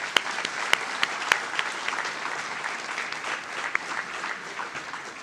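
An audience at an academic closing ceremony applauds for special guests, a sustained wash of clapping with a few sharp nearby claps standing out early, fading slightly toward the end.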